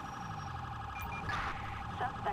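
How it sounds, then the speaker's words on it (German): Police car siren in the video game GTA V, a repeating electronic wail heard steadily at moderate distance under a low engine hum. "Wir fahren mal mit Sirene vorsichtig."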